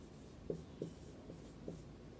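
Chalk or marker taps and scratches on a board as the second rule of a physics lesson on refraction is written, a few soft distinct strokes in a quiet room with no talk.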